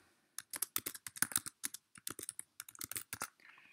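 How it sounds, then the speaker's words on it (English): Rapid keystrokes on a computer keyboard as a goal is entered into a web app, an irregular run of close, crisp clicks with short pauses, alone without speech. "type your goal, for example, learn a new language"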